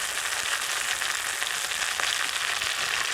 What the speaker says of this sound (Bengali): এবার টমেটোটা দিয়ে দেবো